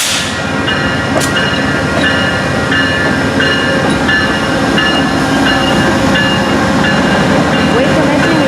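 A VIA Rail passenger train with a 40-year-old locomotive, a first class car and two coaches roars past up close, a loud continuous rush of rolling cars with faint rail clatter throughout.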